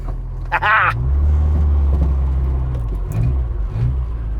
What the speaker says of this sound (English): if you're gonna drive a Mini Cooper S, you better drive it right